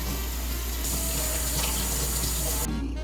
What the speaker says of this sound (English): first we're gonna wash our hands